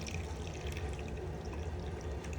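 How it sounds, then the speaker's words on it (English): Water from an LG washer's small drain pipe pours steadily into a bucket, a continuous close splashing and gurgling rush with no break. "first use a bucket and then take off the cap of this little water pipe. Let it drain completely first."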